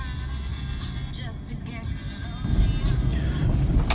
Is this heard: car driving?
yes